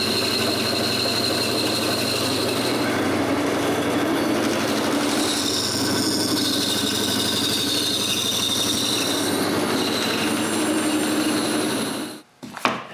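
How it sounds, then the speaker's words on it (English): A bandsaw cutting a wooden lion's-foot pattern for a TV lift cabinet gives a steady, loud whirring rasp for about twelve seconds, then winds down abruptly with a final clunk. "and go to the bandsaw"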